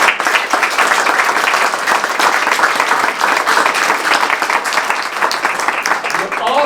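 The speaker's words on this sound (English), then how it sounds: "Applaud yourself." Audience applause at a magazine release celebration, loud dense clapping filling the room steadily from start to finish with no break.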